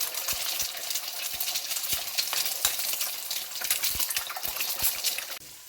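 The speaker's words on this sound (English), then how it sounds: "deep frying the eggs" Eggs deep frying in hot oil for egg fried rice, a steady bubbling sizzle with intermittent sharp clinks and taps, close and fairly loud throughout.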